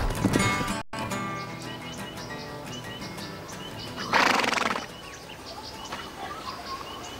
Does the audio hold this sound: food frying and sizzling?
no